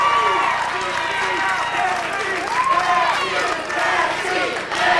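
Wrestling fans in an arena crowd roar and cheer, a sustained dense wash of voices with whoops rising and falling, under a close commentator talking throughout.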